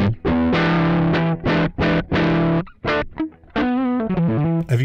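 Electric guitar through a Mosky M-Shall distortion pedal playing loud, heavily driven chords in choppy strummed stabs, then a sustained ringing section and a few quick picked notes, with no talking.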